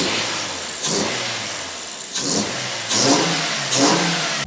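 A car engine fitted with a $500 aftermarket intake revs up in several sharp bursts with short pauses between them, loud and close, with no talking.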